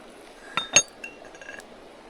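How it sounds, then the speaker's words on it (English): Spoon clinking against the side of a pot as cream is stirred into tomato soup over a campfire outdoors; a few bright, separate metallic taps, close and fairly soft, with no talk. "Give it a quick stir in there."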